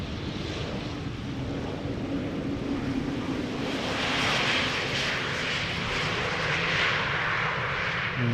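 An Embraer 190 jet airliner, registration PH-GOV, first flown in 2009, is landing at Schiphol. Its steady broadband jet roar holds close and fairly loud, swelling slightly midway, with a wind-like rush throughout and no voices.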